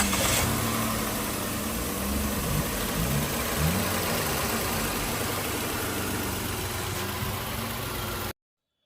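A Nissan Micra engine idles after a service, with a steady, even running hum and a low rhythmic pulse that holds close and constant throughout before cutting off abruptly.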